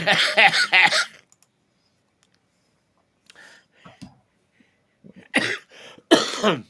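A person laughs and coughs up close, followed by a quiet pause, a few soft throaty sounds, then more coughing and laughter.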